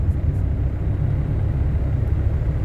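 A car driving on a road, with a steady, loud low rumble of engine and road noise throughout and no distinct rise in pitch.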